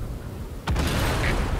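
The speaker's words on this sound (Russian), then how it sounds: "Выстрел." A single heavy tank cannon blast in a video game booms out suddenly partway through, its low rumble lingering over a constant background hum.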